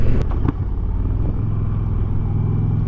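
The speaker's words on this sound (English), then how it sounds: "Hear that little pop when you shift it down." An Indian Challenger Dark Horse motorcycle engine rumbles close by while being downshifted with a small rev match, and a couple of short sharp pops show near the start before a steady low drone settles in.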